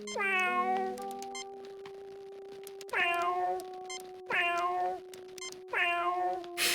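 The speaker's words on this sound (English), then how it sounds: "Hello, kitty. Nice kitty." A cat in the Star Trek: Judgment Rites video game gives four clear, drawn-out meows, close and spaced a second or two apart, over a faint steady electronic hum.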